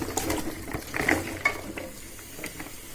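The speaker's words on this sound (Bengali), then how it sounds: "এবার কেটে রাখা ফুলকপিগুলো দিয়ে দিচ্ছি।" Chopped cauliflower tumbles into a hot pan of cooked spices, giving a brief rustle and clatter with a faint sizzle that settles down, close by, no voices.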